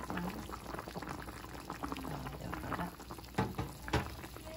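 A pot of salmon braising in a clay pot with fish sauce, the liquid boiling and reducing, steady bubbling and sizzling close up with a few louder pops near the end, no talk.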